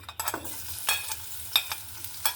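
Chopped garlic dropped into hot oil for dal, crackling in quick bursts and sharp spattering pops over a low steady sizzle, close and fairly loud.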